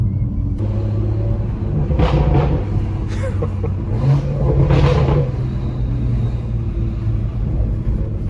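A BMW M140i with the B58 engine rumbles with a deep, steady exhaust drone, swelling in two loud revving bursts midway before settling back to a resonant idle.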